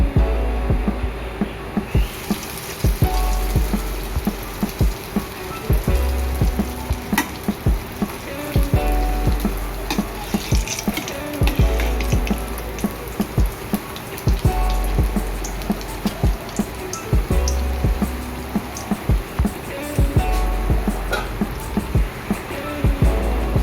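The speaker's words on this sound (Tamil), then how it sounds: "இப்போ இந்த பிரெட் பீசஸை கீழே நல்லா டீப் ஃப்ரை பண்ணணும்" Bread pieces deep frying in hot ghee in a kadai, a steady dense sizzle and crackle with bubbling pops running throughout, loud and close with no talk.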